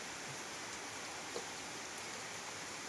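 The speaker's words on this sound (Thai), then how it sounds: "แรงมาก็เลยฝนตก เย็นดี อากาศเย็นชุ่มชื้น" Steady, hissing rain falls without pause, a soft broadband wash with faint scattered drops and no voices.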